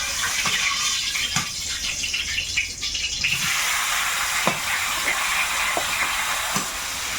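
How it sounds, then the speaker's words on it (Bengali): Prawns fry in hot oil in a wok, giving a close, continuous sizzle with scattered soft knocks of stirring scattered through it; no voices. "এখন এই চিংড়িগুলো ভাজবো"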